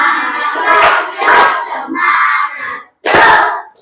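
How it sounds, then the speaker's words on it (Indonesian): A class of students chants and claps through the 'tepuk semangat' spirit routine, loud group voices in short rhythmic bursts with a brief pause before a final shout. "kita tepuk semangat dulu ya"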